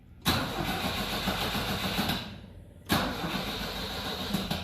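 Old car with a faulty ignition switch cranking and catching twice, each start a sudden burst into a rough running engine; the first runs about two seconds and cuts out before the second start, close and clear without talk.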